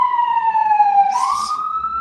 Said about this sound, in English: That's quite a loud ambulance.